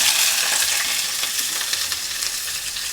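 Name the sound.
onion frying in ghee and oil tempering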